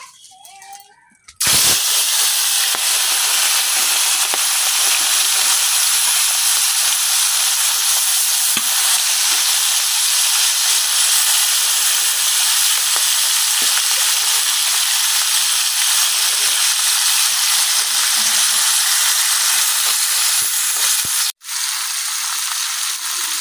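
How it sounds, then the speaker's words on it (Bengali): Puti fish hitting hot oil in a village kitchen, then a loud, steady, continuous sizzle and hiss of frying that runs unbroken for about twenty seconds, with a brief break near the end. "তেলটা গরম হয়ে গেছে, এখন আমি তেলের মধ্যে মাছগুলা দিয়ে দিতেছি।"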